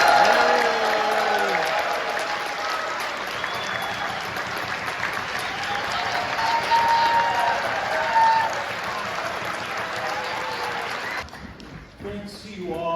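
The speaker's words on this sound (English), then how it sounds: "a huge applause for all of our musicians here on stage" Large audience at a tuba Christmas concert applauds the musicians, dense sustained clapping that carries for most of the stretch before thinning out, with crowd murmur and voices mixed in.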